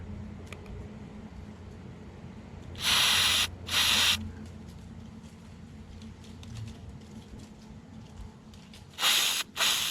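Cleaner sprayed from an aerosol can into the carburetor of a Little Wonder hedge trimmer, heard as four loud close hissing bursts, two near the start and two at the end, over a quiet workshop background.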